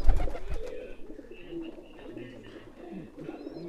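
Pigeons coo in a loft built for them, several low murmuring calls overlapping through the clip with a loud thump near the start and someone talking over them.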